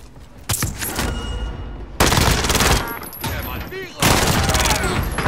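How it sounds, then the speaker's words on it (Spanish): Loud automatic gunfire in a Warzone battle comes in several close bursts with brief pauses between them, layered with tonal game effects and some background voices. "Me disparan."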